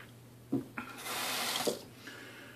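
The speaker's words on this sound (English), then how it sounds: "I've been rinsing the blade under the tap." A bathroom tap runs in short bursts as a straight razor blade is rinsed, with clinks and splashes near the start, fairly quiet and close with no speech.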